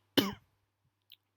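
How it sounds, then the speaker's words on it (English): A single short cough rings out close and fairly loud, followed by a brief lull and a faint small click near the end. "got a bit of a cough"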